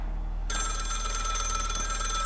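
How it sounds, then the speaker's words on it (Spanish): A telephone rings in the horror video game Maid of Sker, bursting in abruptly after a brief quiet moment and continuing as a steady, insistent electronic ring with no speech. "Vale, un teléfono sonando."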